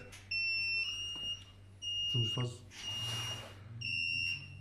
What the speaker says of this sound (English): within just a few seconds device will give alarms